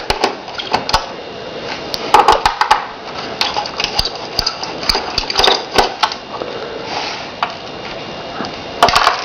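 A screwdriver works loose the screws on an Asus G71GX laptop, producing a scatter of small sharp clicks, taps and scrapes at close range with no talk.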